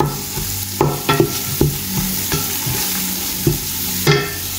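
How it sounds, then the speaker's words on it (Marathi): Tomatoes with spice powders and garam masala roasting in a pan, with close, repeated scrapes and knocks of a spatula over a soft continuous sizzle. "तर आता हे सगळे न्ही बरें भाजून घेता आणि तेन्ना मुसोर आमचे टोमॅटोज न्ही सॉफ्ट जातले"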